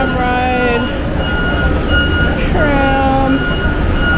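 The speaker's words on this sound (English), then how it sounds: "Yay, tram ride." A theme park tram rolls along with a steady loud rumble and faint squealing tones, with people talking over it.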